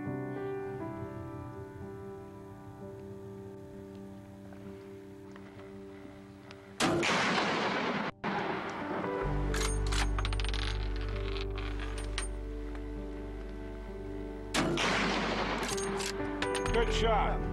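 Gunfire on a shooting range, several loud sharp reports with long ringing tails, two standing out well apart over a continuous low rumble of engine or ambient noise.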